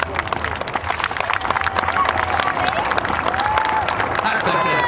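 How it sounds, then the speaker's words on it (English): A crowd applauds the Phoenix display team at the Wings and Wheels 2014 air show, with sharp scattered claps and some cheering over an outdoor wash, while a voice and faint whistling tones come through. "Have a huge round of applause in Phoenix!"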